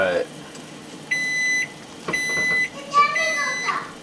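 Kitchen timer going off during homemade bagel boiling, sounding as three separate sustained electronic beeps of about half a second each, moderately loud, with faint kitchen noise in the background.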